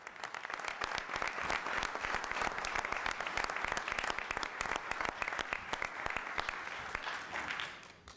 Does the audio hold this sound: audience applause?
yes